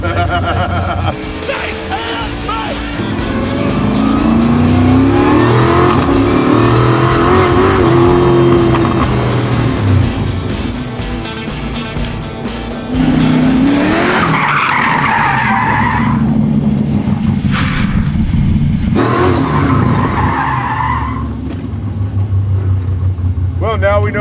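An 850-horsepower all-carbon-fiber Chevy C10 race truck with a sequential transmission revs hard and skids, tires squealing loudly and continuously as the engine roars close by, with a short lull and then more wheelspin.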